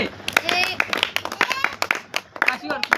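Classroom students clap together in a counted rhythm, sharp hand claps in short bursts among lively talking voices and chatter.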